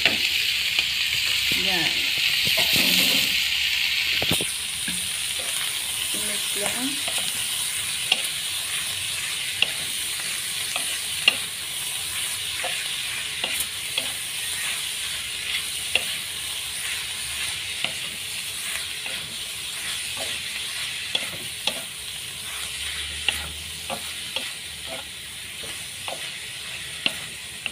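Goat tripe and intestines fry in a pan with a loud, continuous sizzle and hiss, broken by occasional stirring clicks and scrapes, and a voice speaks briefly near the start.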